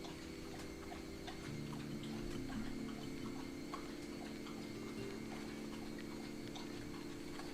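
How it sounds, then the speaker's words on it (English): A horse drinks somewhere behind a flight-simulator cockpit setup, giving soft, regular ticking and clopping sounds against a low steady hum, faint and distant. "Can you hear the horse drinking in the background?"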